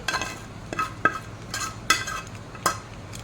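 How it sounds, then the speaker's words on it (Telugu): Spaghetti tossed with fried minced mutton keema crackles in a hot pan, with a few distinct metallic scrapes and clacks of a spoon stirring against the metal over a low steady sizzle, close by and without voices. "అంతా బాగా మిక్స్ చేసుకోవాలి బాగా బాగా ఫ్రై అయిపోయింది"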